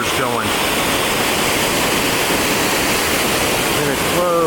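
Loud, steady roar of the Upper Falls in Grand Teton National Park rushing close by, filling the whole clip without a break.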